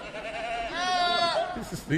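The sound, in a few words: distant goat bleating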